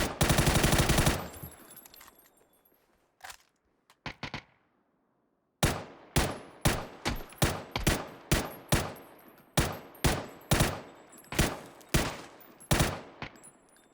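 Gunfire in a first-person shooter video game: a dense automatic burst, a few scattered shots, a short silence, then a long string of sharp single taps fired in a steady, evenly spaced rhythm.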